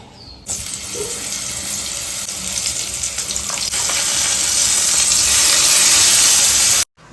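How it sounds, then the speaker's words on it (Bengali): Brinjal slices frying in a pan, a loud steady sizzle that builds slightly over several seconds before cutting off abruptly, with no voices. "মা ওদিকে বেগুনগুলো ভাজছিল"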